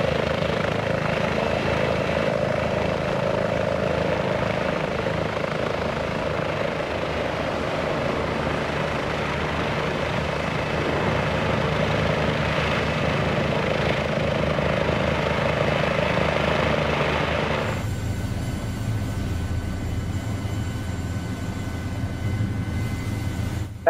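A helicopter in flight over the Los Angeles area near Van Nuys gives a loud, continuous rotor and engine drone that holds steady for about eighteen seconds, then shifts to a thinner, duller tone for the final stretch, with no voices.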